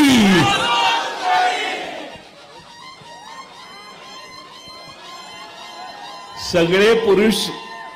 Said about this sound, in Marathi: सगळ्या पुरुषांनी जल्लोष केला